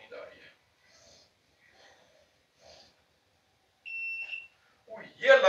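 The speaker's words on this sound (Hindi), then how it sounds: "ये अलार्म सही था, यानी इसको पता चल गया कि बंदा सो रहा है" A drivers' anti-sleep alarm device sounds one short, clear electronic beep in a quiet car, preceded by soft breathing and sniffing noises and followed by a person speaking.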